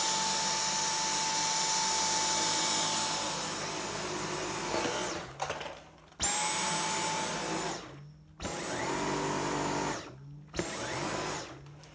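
A Dyson V10 cordless vacuum cleaner running on its minimum power setting gives a steady high-pitched motor whine and airflow rush, then cuts out and restarts several times in quick succession, close to the microphone with no speech.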